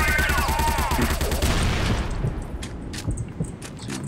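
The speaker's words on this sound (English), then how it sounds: "Why is there so many grenades exploding around me and hurting me?" Grenades exploding in the zombie mode of the shooter game Crossfire, a dense barrage of loud, overlapping blasts and rapid gunfire filling the first two seconds, then fading into a rumbling tail with scattered distant pops.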